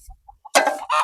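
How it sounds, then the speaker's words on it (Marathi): Backyard village hens clucking nearby, a couple of soft short clucks followed by two louder close calls in quick succession. "हे बघा आमच्या कोंबड्या"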